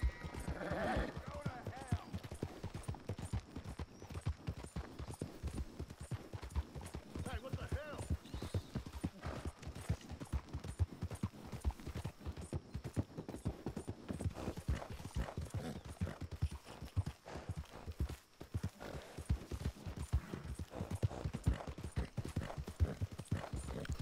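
Horse hooves clip-clop steadily throughout a Red Dead Redemption 2 ride, with an occasional whinny, while someone talks over the rhythmic hoofbeats.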